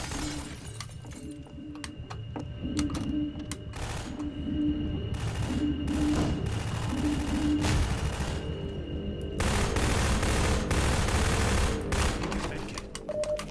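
Gunfire in Half-Life 2 rips out in rapid bursts and single sharp shots, with breaking glass and impacts mixed in, loud and close over a constant background hum.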